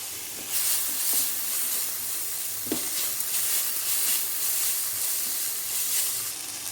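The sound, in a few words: tomato and onion sautéing in pan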